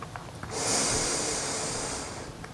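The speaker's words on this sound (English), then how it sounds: "We'll take a full breath in." A long, steady full inhale during a calm yoga practice, breath drawn in evenly for about two seconds, close and fairly soft, with no talking.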